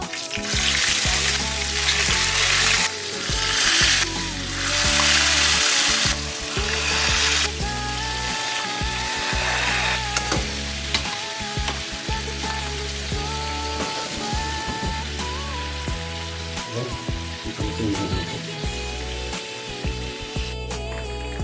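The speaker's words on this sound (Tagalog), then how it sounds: "mag-prito na tayo" Loud, continuous sizzling of food frying in a hot pan, with crackles and pops and occasional scraping, music playing faintly underneath.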